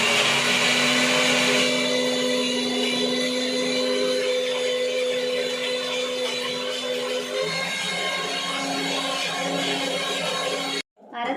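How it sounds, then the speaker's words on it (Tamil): A mixer grinder whirs loudly and steadily while blending egg kurma masala paste, its motor pitch dropping partway through before it cuts off abruptly near the end. "இப்போ அரைச்சிடலாம்."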